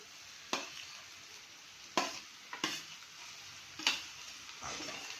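Boiled potatoes are stirred and mashed in a pan, giving several sharp scraping and tapping strokes spaced a second or so apart over a faint background sizzle.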